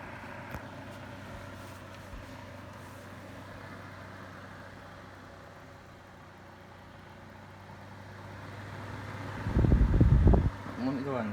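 A 2017 Holmes Lil-Blizzard table fan runs on low while oscillating, giving a steady close mechanical hum with a light rattle. A louder burst of handling noise comes near the end.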